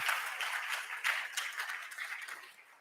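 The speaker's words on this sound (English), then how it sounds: "Let's give our panel a round of applause." Audience applause for a panel at an athletes' forum in Bangkok, a steady patter of many hands clapping that fades toward the end, moderately loud with no speech over it.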